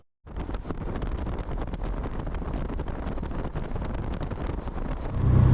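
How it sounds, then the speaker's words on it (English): A steady roar of wind buffets a car driving home on a summer evening, with dense road and air noise that swells louder near the end and no one talking. "This is what driving home in the summer evenings is like every year."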